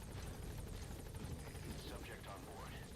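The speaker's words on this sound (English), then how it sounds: "Like, the helicopter's right there." Helicopter in the video game Metal Gear Solid V, its rotor a constant whirring drone heard at close range beneath continuous speech.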